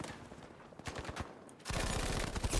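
In Battlefield V, an M1922 machine gun fires in rapid bursts, then in a louder, sustained stream of automatic fire close by.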